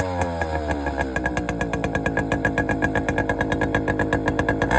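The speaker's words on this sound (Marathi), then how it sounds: "तेवढ्यात गौरवच्या डोक्यात आलं, म्हणे ही बॉटल कापून गाडीच्या सायलेन्सर मध्ये टाकू." Motorcycle engine idling with a cut plastic bottle stuffed into its silencer, giving a rapid, evenly pulsing putter that gradually quickens and grows slightly louder, close by and alone.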